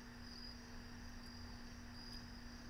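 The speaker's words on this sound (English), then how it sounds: "crickets are outside chilling. That's crazy you can hear them." Crickets chirp outside at night in a continuous, faint, even trill with a steady high tone, heard from a distance with no voices.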